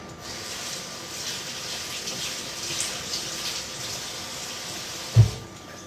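Cherry tomatoes, a small handful, rinsed under a running kitchen tap: a steady broadband hiss of flowing water lasting several seconds, with one short low thump near the end and no talking.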